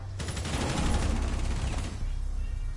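Rapid automatic gunfire from a Rainbow Six Siege match rattles in a loud, sustained burst for about two seconds, then breaks off into a few softer trailing shots.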